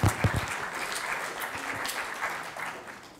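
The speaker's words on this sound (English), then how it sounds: "Give yourselves a big round of applause." An indoor audience at a science-of-illusion talk claps, starting with a few loud claps and settling into steady, moderately quiet applause that tapers off.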